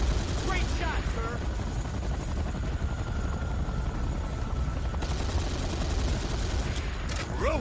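Helicopter rotor drone and bursts of gunfire in the C&C: Renegade video game, a continuous busy combat din with shots and blasts throughout, with faint shouted voices mixed in.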